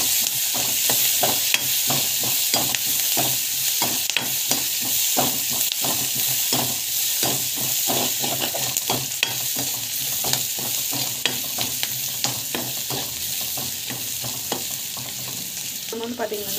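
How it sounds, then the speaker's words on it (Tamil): Food sautés in a hot pan with a steady, loud sizzle, while a spatula stirs and scrapes at a quick, regular rhythm throughout. "அந்த பச்சை வாசம் போகிற வரைக்கும் நல்லா வதங்கணும்"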